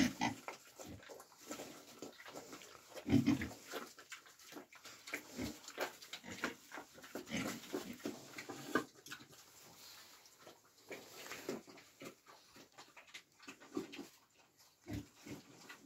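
Vietnamese pigs eating at a farm pen, with snuffling grunts and chewing sounds recurring irregularly throughout, fairly close and moderately quiet, with no talking.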